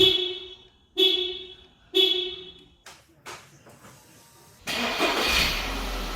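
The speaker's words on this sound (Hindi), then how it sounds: "अगर आपके पास रिमोट स्टार्टर होगा तो निकलने से 10 मिनट पहले ही आप अपनी गाड़ी स्टार्ट कर सकते हो रिमोटली" A car is started by remote starter in a Canadian winter: three short sharp bursts sound in a row, then a few brief cranking stutters, before the engine catches and settles into a loud, steady run.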